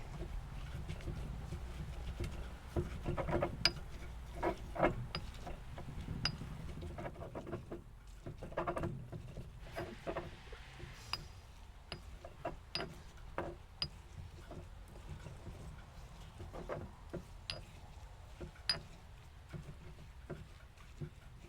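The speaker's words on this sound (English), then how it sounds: "I'm just going to do my best to grind it up just to release more of those oils out of the plants." Herbs crushed and ground with a mortar and pestle, close and quiet, with irregular taps, knocks and gritty scraping scattered throughout.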